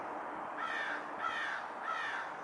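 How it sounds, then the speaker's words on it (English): A crow caws three times at a steady pace, a bit distant, in an old cemetery, the harsh calls standing alone against faint background hiss. "Goes the birds again."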